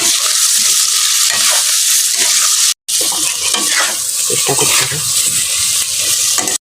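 Ground spices frying in hot oil for a pabda fish curry, loud close sizzling crackle with scraping stirs of a spoon against the pan, broken by one brief silent gap midway.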